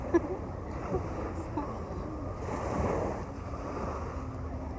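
Sea waves wash steadily onto a beach, a soft continuous surf with wind noise buffeting the microphone. Voices talk faintly in the background.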